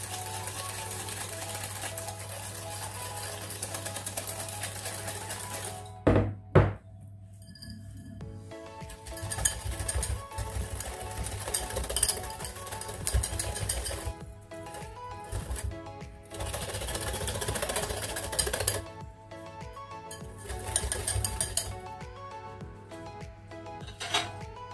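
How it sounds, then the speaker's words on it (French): Muffin batter for chocolate chip muffins being whisked in a bowl until pale, a steady rapid metallic clatter of whisk against the bowl that pauses briefly partway through, with occasional clinks. "on va fouetter le mélange pour blanchir un peu"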